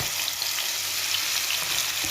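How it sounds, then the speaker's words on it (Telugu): Spiced okra (bendakaya) frying in hot oil, giving a continuous dense sizzle and crackle that stays even and fairly loud throughout, with no talking. "ఇప్పుడు మనకు కలిపి పెట్టుకున్న ఈ బెండకాయలన్నీ ఇందులో వేసేసి వేయించుకుందాం"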